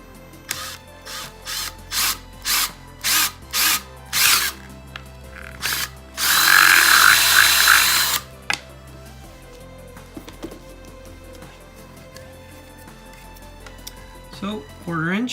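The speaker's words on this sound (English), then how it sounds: "1/4" drill bit." Power drill boring with a 1/4 inch bit, heard as a string of short trigger bursts followed by one sustained loud two-second run, then faint handling clicks and rustle.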